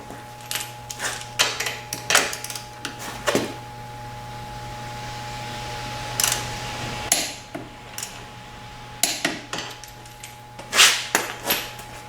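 Torque wrench tightening the front axle nut on a 2000 Yamaha YZF-R6 during wheel installation, with a series of sharp metallic clicks and ratcheting taps, close and moderately loud, scattered irregularly over a steady low hum.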